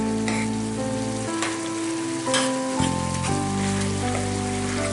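Ground beef browning in a pan for copycat Wendy's chili sizzles steadily throughout, a close, continuous frying crackle with occasional scraping as the meat is broken up, no voices.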